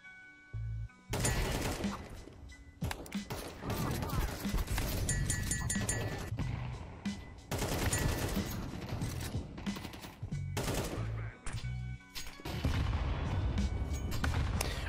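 Video game firefight with rapid bursts of gunfire and grenade blasts, loud and dense, coming in several heavy bursts separated by brief lulls.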